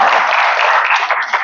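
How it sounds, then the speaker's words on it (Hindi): An indoor audience applauds a young child, a dense burst of steady clapping from many hands that runs close and loud, then thins slightly near the end. "ये ध्रुव बच्चे के लिए ताली बजाओ"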